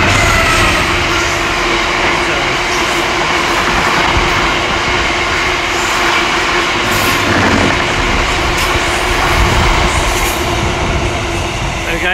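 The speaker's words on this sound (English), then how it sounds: "We have got a class 66 Freightliner, full ballast, through platform 4." A Class 66 Freightliner freight locomotive hauling a full ballast train passes through a station platform, a loud, steady rumble and wheel roar that continues unbroken and close by from start to finish.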